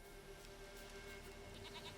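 A goat bleats faintly in The Witcher 3, a short wavering call rising near the end over a quiet ambient hum.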